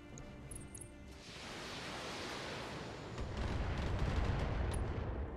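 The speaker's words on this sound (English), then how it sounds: "Firing a full salvo." A battlemech in the Battletech game unloads a full weapons salvo, a dense, roaring wall of blasts and rumbling explosions that swells louder toward the end, with no voices over it.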